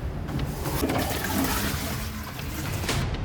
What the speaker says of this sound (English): They flush the unflushed toilet and wash the dirty surfaces